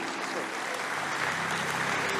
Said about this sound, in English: Ladies and gentlemen, a round of applause for TJ Tautua and the Ministry of Tone.